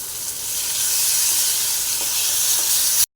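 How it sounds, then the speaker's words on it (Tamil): Tomatoes sauté in a pan for mutton kuzhambu with a loud, continuous sizzle and hiss that grows slightly stronger before cutting off abruptly near the end. "தக்காளி நல்லா குழஞ்சி வதங்கட்டும்"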